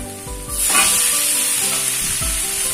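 Chicken pieces dropped into a pan of wilted sautéed aromatics, bursting into a loud, steady sizzle and hiss that holds close up for a few seconds.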